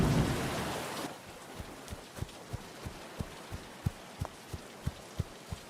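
Rain falling in an animated cartoon, opening with a broad wash of downpour that fades after a second into a sparse, regular series of soft low drops or thuds, fairly quiet with no talk.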